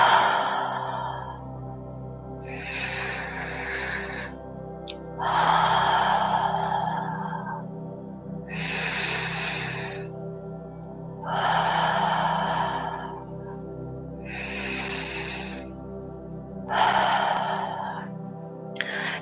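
Ujjayi victorious breathing, slow audible breaths in through the nose and out through the mouth with a soft whispery "ha" quality, about seven breath phrases in a steady unhurried rhythm over a low background hum.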